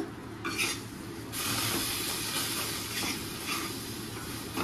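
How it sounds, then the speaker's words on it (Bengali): Water poured into a pan of frying coconut sets off a steady, close hiss and sizzle that swells after a brief pause and keeps going alone without any talking. "জলটা দিচ্ছি, দেখো 1 কাপ জল নিয়েছি।"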